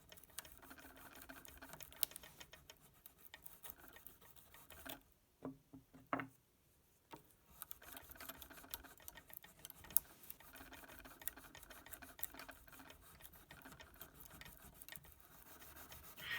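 An eraser rubs over guitar frets after fine grit sanding, a faint, soft scrubbing in repeated strokes with a brief quiet pause partway through.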